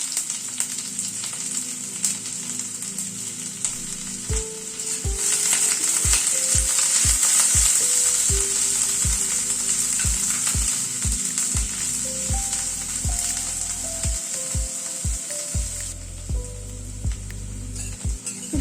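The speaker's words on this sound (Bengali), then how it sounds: "পেঁয়াজটাকে প্রথমে ভেজে নিচ্ছি।" A large chopped onion fries in hot mustard oil over a high gas flame, a strong steady sizzle that runs the whole time beneath a plucked melodic music track.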